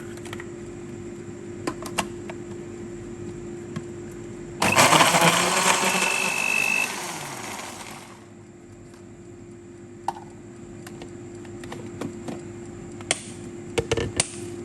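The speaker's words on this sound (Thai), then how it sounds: "จากนั้นนำไปปั่นค่ะ" A kitchen blender whirs loudly for about three seconds, blending a seafood dipping sauce of lime juice, fish sauce and cooled boiled water, then winds down, with scattered clicks and handling noises before and after.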